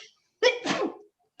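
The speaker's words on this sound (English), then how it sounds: "I'm gonna sneeze." A single close, loud sneeze bursts out as a sharp intake and an explosive release lasting about half a second, set against near silence.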